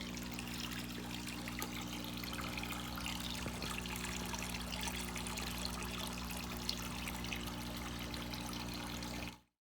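Water from a garden hose trickles and splashes steadily into a guppy fish tank, a soft continuous pour with a low hum beneath, no talk.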